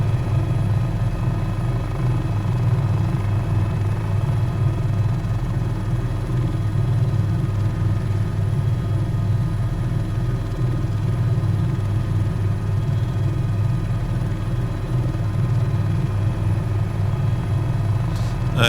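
A CowanSim H130 helicopter flies in Microsoft Flight Simulator over Bora Bora, a steady droning rotor and turbine rumble that continues unbroken at even loudness throughout.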